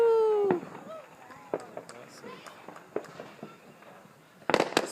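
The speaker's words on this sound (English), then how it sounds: "One of them firecrackers hit it." Parachute firecrackers go off outdoors: a whistling rise, then scattered sharp pops and cracks at varying distances, ending in a loud rapid cluster of bangs, with people talking and exclaiming.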